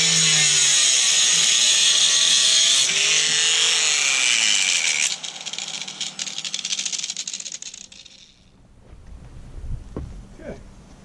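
Angle grinder cutting steel tractor forks on an angle for a three-point hitch build, a loud high whine that holds, falters as the disc bites, then winds down and stops, leaving clanking handling noises.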